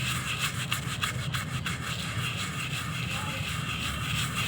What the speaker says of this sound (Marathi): आणि हा आता असा घासायचा आहे हळूहळू, हे असं घासत राहायचं।